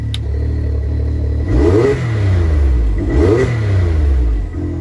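A Can-Am Maverick X3 with a Valvetronic exhaust idles with a deep burble, then two sharp revs rise and fall in quick succession, loud and close.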